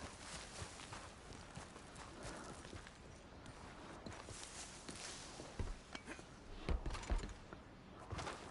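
Horse hooves clip-clopping steadily in Red Dead Redemption 2, a continuous run of hoofbeats at moderate loudness with some louder thuds near the end, no talking.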